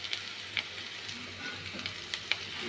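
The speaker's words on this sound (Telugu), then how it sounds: "ఇవి కూడా బాగా పచ్చివాసన పోయే వరకు వేసుకున్నాను." Ginger garlic paste and turmeric frying in a pan: a steady close sizzle with a few sharp spits and pops, no voices.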